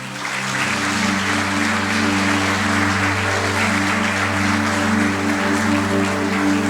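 Church congregation applauding throughout, a broad steady wash of many hands held at constant loudness, with a sustained musical drone or keyboard chord underneath and no speech on top.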